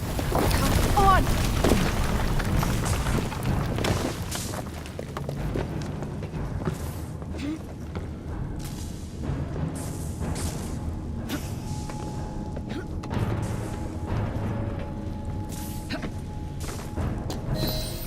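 A loud explosion in the video game Assassin's Creed Syndicate bursts out at the start as a heavy, rumbling boom, then settles into a continuous low roar and clatter of game noise.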